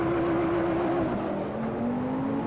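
A race car engine in the Assetto Corsa racing game drones steadily at a constant hum, its pitch dipping slightly midway and then rising again, loud and continuous throughout.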